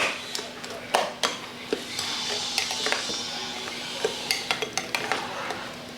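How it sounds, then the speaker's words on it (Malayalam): A spoon stirs snap melon juice sweetened with jaggery in a pot or glass, making repeated light clinks and taps. Faint background noise and a steady hum run under it. "ഇത് നല്ലപോലെ മിക്സ് ചെയ്യുക"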